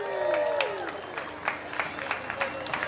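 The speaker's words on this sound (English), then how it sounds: "Let's have a nice round of applause for the holidays." Crowd applause with scattered cheers at the Light Up Lauderdale holiday lighting event on the Riverwalk in Fort Lauderdale, a steady outdoor clapping under an announcer's voice over a PA, with a tone sweeping near the start.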